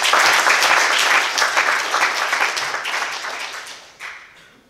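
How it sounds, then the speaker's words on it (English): A church congregation at a Sunday service at St Paul AME Church bursts into dense, steady applause of praise, loud and continuous at first, then gradually thinning and fading toward the end. "Give her a hand clap of praise."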